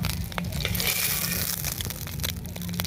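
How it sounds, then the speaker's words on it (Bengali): Eggs crackle and sizzle in hot mustard oil in a kadai, a dense close-up frying sound with soft scraping, steady for a few seconds with no talking. "এরপর আমি ডিমগুলো সব ভেজে নেব"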